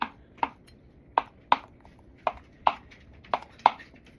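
A knife chops feta cheese on a cutting board for a Greek village salad, eight sharp, distinct knocks in an uneven rhythm, close and alone against a quiet background.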